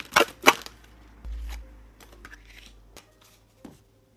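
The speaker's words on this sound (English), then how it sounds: "Beautiful cards, but they're so awkward to shuffle." A tarot deck being shuffled, two quick riffling bursts close up, then a few faint card taps and clicks with quiet pauses between.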